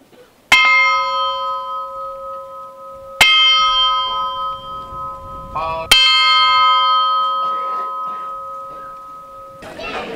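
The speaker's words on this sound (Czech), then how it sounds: "zvon byl odlit v polském Přemyslu ve firmě Felčinský, váží přibližně kolem 40 kg" A small new chapel bell, about 40 kg, cast by the Felczyński foundry in Przemyśl, Poland, struck three times at slow, even intervals, each ring bright and clear and slowly fading, with faint murmuring voices in between.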